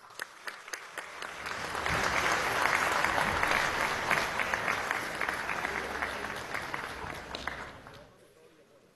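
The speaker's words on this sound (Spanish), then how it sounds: "Pido un aplauso para ellos" Applause from the chamber of Venezuela's National Assembly in session, a dense wash of clapping that swells after a second, holds steady and then thins out near the end, with some voices mixed in.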